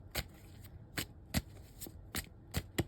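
Tarot cards shuffled in the hands, giving several crisp, riffling bursts at a steady, unhurried pace, close and soft against a quiet room with no talking.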